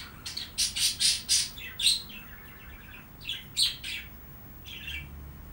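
Freshly released birds squawk and chirp in repeated sharp bursts, loud and close, with short pauses between calls and no voices.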